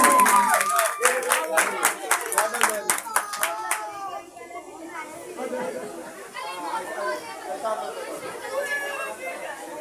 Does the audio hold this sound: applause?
yes